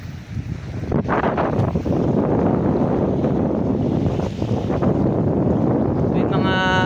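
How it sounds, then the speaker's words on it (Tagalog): Strong wind blowing across a beachfront lot by the sea at high tide, a loud, continuous low rumble of gusts hitting the microphone, with surf mixed underneath. "Medyo malakas po ang hangin."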